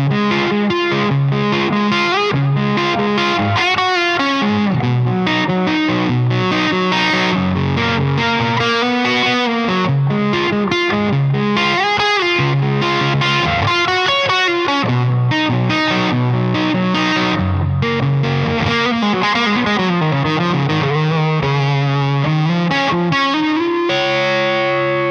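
Electric guitar with humbucker pickups played through a Kasleder Vintage King fuzz pedal, a thick, saturated distorted tone with chords and riffs playing loud and continuous throughout.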